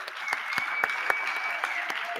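Sparse, evenly spaced claps from a small audience at a Grade 11 maths workshop, a handful of crisp hand strikes about a quarter-second apart over a steady hum.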